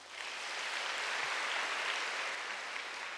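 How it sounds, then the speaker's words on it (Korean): Church congregation applause during a Korean Wednesday worship service, a soft, even wash of clapping heard from a distance for about three seconds. "박수 한번 쳐주세요"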